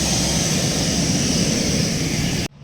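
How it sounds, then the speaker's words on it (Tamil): A lorry loaded with cashews pulls away with a loud, continuous engine roar up close. The roar holds steady and then cuts off abruptly at the end. "ஒரு வண்டி கிளம்புது"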